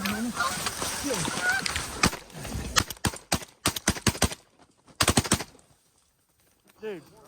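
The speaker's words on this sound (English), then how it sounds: "that freaking goose got out" Canada geese honk over a wheat field in Kansas during a waterfowl hunt; a voice talks at first, then a rapid volley of loud gunshots cracks near and then again after a pause, with faint goose calls at the end.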